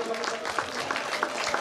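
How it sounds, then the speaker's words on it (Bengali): Audience clapping at a Urs award ceremony at Tulsiberia Dargah Sharif, a moderate, fairly even patter of hands at mid distance with some voices mixed in. "জোরে করতালি"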